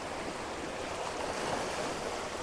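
Ocean waves wash over coastal rocks near a lighthouse, making a steady broadband rush of surf with no distinct breaks, fairly close and unbroken by voices.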